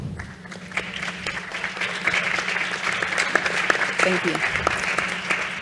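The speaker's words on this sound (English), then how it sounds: "Please, an applause for them." An audience applauds panel speakers at a startup event, a dense sustained clatter of clapping hands that carries through the clip, with someone speaking over it.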